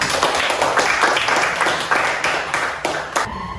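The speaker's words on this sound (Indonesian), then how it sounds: "Tepuk tangan dulu untuk kita semua." A classroom of religion students claps hands together, a dense, steady patter of many palms close by, filling the whole stretch with no voices over it.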